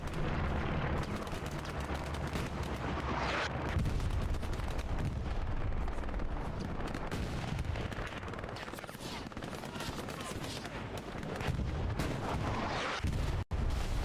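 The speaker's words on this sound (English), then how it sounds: "Artillery coming in." Artillery fire in the World War II shooter Hell Let Loose during a competitive match: a dense, continuous barrage of booming impacts and rattling gunfire, loud and unbroken throughout.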